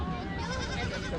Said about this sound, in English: some cute little goats.